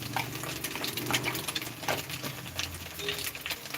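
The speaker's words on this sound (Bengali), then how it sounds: "মশলাটা ভালো করে কষিয়ে নেব" Spice masala with cumin powder is stir-fried for tadka dal, with a soft sizzle under repeated scraping and stirring strokes of a utensil against the pan, close and moderately quiet.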